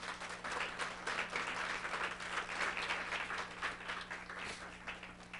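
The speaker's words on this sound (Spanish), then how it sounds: "Denle un aplauso al Señor." A church congregation gives a sustained round of applause during a service, the dense clapping steady and even throughout, heard from a little distance over a low electrical hum.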